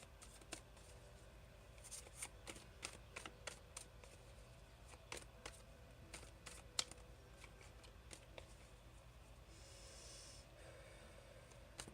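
Soft, irregular flicks and taps of tarot cards being shuffled, close and quiet, in a steady patter with brief bursts of rustling.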